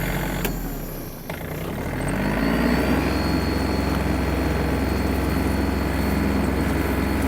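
Yanmar RS-24 Japanese mini tractor engine runs steadily and loudly close by, a continuous low droning rumble with a brief dip near the start as the tractor turns on the spot.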